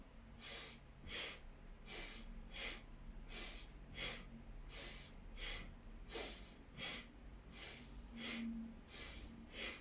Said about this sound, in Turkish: Soldan nefes alıp sağdan verecek şekilde.